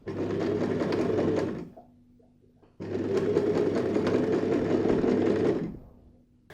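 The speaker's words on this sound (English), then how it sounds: "At the same time, I go and sew the other end of my bias binding as well." Sewing machine stitching bias binding onto a mitred handbag handle, two sustained bursts of rapid whirring separated by a short pause, close and unaccompanied by talk.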